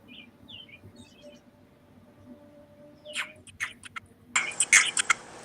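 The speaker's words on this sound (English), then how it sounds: "I was just talking about the bird." A small bird gives scattered chirps and tweets, faint at first and then sharper, higher and more frequent near the end, over a quiet room background.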